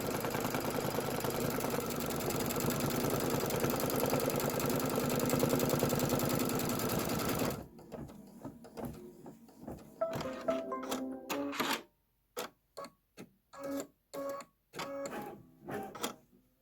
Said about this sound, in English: Step 7 is going to be the roof placement stitch, and your roof is going to be in that gingerbread brown